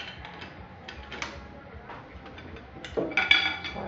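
An action wrench tightens a rifle barrel during a barrel swap, giving soft ratcheting clicks and metallic ticks, then a louder burst of clanks near the end.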